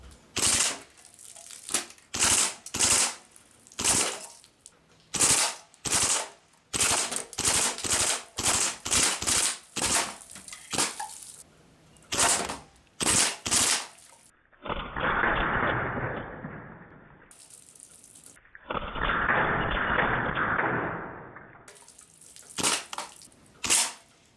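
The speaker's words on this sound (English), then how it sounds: "3-shot burst gets the job done no matter what." A Sig Sauer Rattler replica BB gun fires many rapid bursts of sharp close cracks, clustered in quick groups, with two stretches of steady hissing noise breaking the shooting midway.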